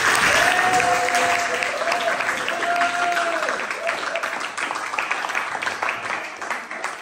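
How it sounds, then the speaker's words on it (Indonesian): Classroom applause for a student, steady dense clapping from a group with a few voices and a brief whistle-like tone over it, fading slightly toward the end. "Tepuk tangan untuk Dika."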